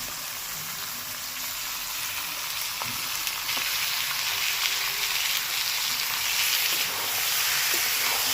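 Chicken pieces sizzle and fry steadily in a hot pan with oil, a dense continuous hiss with occasional crackles and faint stirring, close and fairly loud throughout, no voices.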